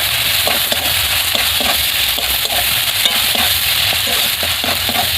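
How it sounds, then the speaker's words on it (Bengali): Ground cumin, chili paste and turmeric stir-fried in hot oil, giving a loud, continuous sizzle broken by regular scraping strokes of a spatula, close and without speech. "ভালো করে মশলাটা একটু কষিয়ে নেব।"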